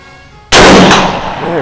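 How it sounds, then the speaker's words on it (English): A 1923 Tula Mosin rifle with a hex receiver, chambered in 7.62x54R, fires one very loud, close shot offhand at a steel target, the sharp blast trailing off in a long rolling echo. "Let's see if I can keep it on steel shooting offhand here."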